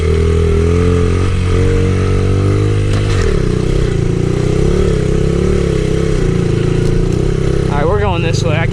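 A pit bike engine drones loudly and steadily while riding over bumpy ground, with a rising rev near the end.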